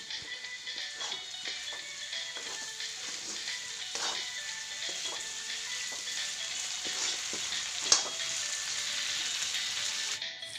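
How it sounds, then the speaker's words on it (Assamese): Ginger, garlic and tomatoes fry in oil in a pan for a mutton curry, a soft steady sizzle with occasional stirring clicks and one sharp knock, and no speech. "বিলাহীখিনিয়ে যেতিয়ালৈকে তেল নেৰে তেতিয়ালৈকে ভাজি ল'ম"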